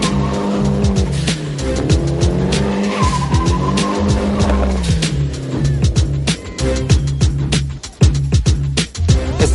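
A car drifts at a Cape Town drift event with loud, sustained tire squeal and a revving engine rising and falling close by, sliding continuously throughout.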